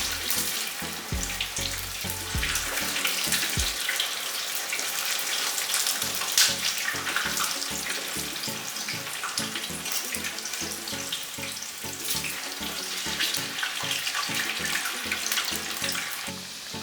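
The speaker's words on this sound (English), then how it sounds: "Cold water just to cool it down, you know, so it can be cool enough for the touch." Cold tap water running over cooked plantain in a kitchen, a continuous close splashing rush with a rapid bubbling patter, steady throughout with no speech.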